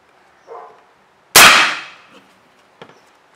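A single sharp report from an AirForce Texan air rifle firing a 554 grain bullet on a high-pressure charge, loud and close, with a short decaying tail, a softer thump just before and a faint click after.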